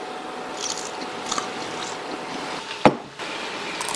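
One sharp, crunchy bite into crispy deep-fried food stands out midway through an otherwise quiet moment.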